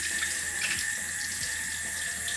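Running tap water splashes steadily into a sink as vegetables for pickling are washed, a loud, constant close rush with no speech.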